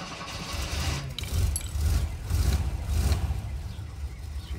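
VW T25 T3 Vanagon engine starting up, a low rumbling catch and uneven chugging that settles into a steady idle, close and moderately loud with no talk.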